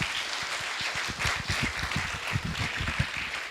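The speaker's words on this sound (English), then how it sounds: "Give yourself a round of applause for that." A graduation audience applauds warmly, with many hands clapping in a dense, steady patter for several seconds and no talking over it.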